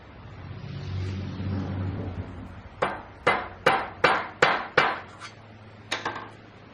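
A chunk of aluminum lightly taps a part back into place during transmission repair work: seven sharp, close metallic knocks in a fairly even rhythm, after a low vehicle rumble that fades beneath them.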